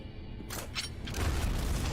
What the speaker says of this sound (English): Let me find my has seen explosion enough. sound effect.